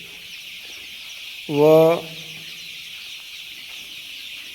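Young free-range desi (gavran) chicks, about 20 days old, on a poultry farm, letting out one short, loud burst of clucking calls over a steady background hiss.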